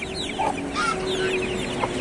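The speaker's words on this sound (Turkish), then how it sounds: "Tavuk." A crested chicken clucks close by in quick, short calls, with other birds chirping faintly behind it.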